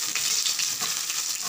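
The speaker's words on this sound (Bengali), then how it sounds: "আদাটা একটু ভাজা ভাজা হয়ে গেলে" Ginger and dried red chillies fry in hot oil in a pan, giving a loud, steady sizzle with light crackling, close up and without talk.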